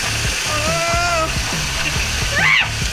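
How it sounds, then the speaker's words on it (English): Water splashes and gurgles over rock in a Zion canyon, a close, busy spatter broken by a few bright tonal warbles, with a brief louder surge near the end. "But the waterfall makes it a little more challenging."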